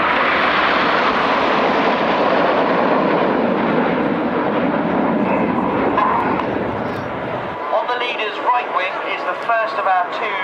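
A Red Arrows display jet roars past at an air force air show, loud and broadband, then cuts off sharply, leaving crowd noise and a commentator's voice.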